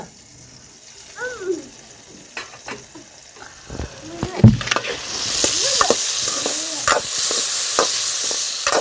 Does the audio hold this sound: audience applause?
no